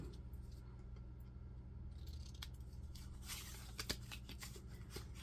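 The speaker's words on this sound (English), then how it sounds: "We're going to cut this little thing into a tag." Scissors snip through paper as a small tag is cut from a craft paper sheet, a run of soft, close crisp cuts and rustles over a steady low hum, a little busier in the second half.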